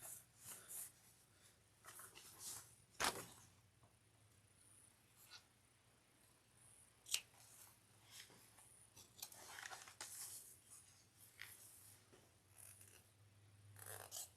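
Scissors snip through fabric around the zipper of a slouch shoulder bag, quiet and close, in scattered short cuts with brief pauses, over a faint low hum.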